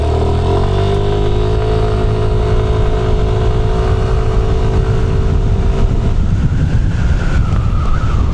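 A Yamaha Lexi 155 scooter engine revs loud and close, holding a steady tone before rising as the VVA engages and the engine accelerates, with no talk.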